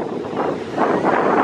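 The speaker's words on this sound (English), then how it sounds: "So now I'm walking along the beach" Wind and surf on a cold northern beach, a steady broad roar of waves with gusting wind buffeting the microphone, continuous and fairly loud with no voices.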